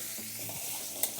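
Fish pieces fry in hot oil in a pan while being turned over, giving a soft continuous sizzle with low stirring rustles and a brief sharp click near the end.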